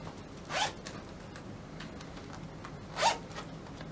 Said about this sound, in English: they have got the zipper on the inside here as well, so you don't have to undo them every time you want to put them on